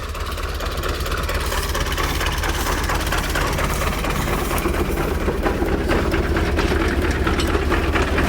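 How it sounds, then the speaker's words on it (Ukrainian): A tractor engine runs steadily at idle before hay mowing on a farm, a continuous close mechanical drone with faint knocking and no talk. "включаємо кусарку нашу"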